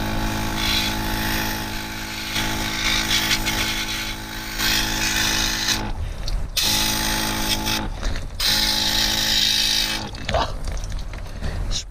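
A Karcher OC3 mobile outdoor cleaner sprays water in a steady, close hiss with a faint mechanical rattle, broken by two short pauses midway, with some talk nearby.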